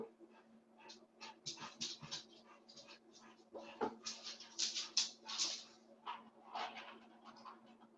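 Indoors, a dog whimpers and pants close by in short uneven bursts, with light scratching and a faint low hum in the room.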